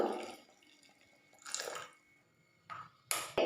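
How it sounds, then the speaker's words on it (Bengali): Hot water poured onto tamarind in a kitchen, a few faint splashing pours and drips separated by quiet pauses. "তেঁতুলের মিষ্টি চাটনি বানাবো তার জন্য আমি খানিকটা তেঁতুল নিয়ে নিয়েছি দিচ্ছি গরম জল"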